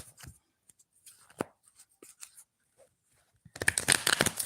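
Tarot cards shuffled by hand, with scattered soft taps and slides that build into a dense, rapid riffle near the end, close and fairly quiet.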